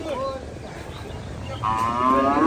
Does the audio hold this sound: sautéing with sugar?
no